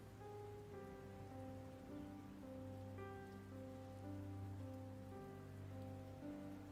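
Steady rain ambience during a tabletop roleplaying session: a constant wash of rainfall heard under soft sustained background music, with no voices.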